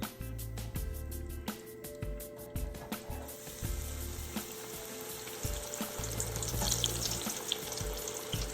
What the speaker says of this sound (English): Now let's head over to the deep fryer and get them browned.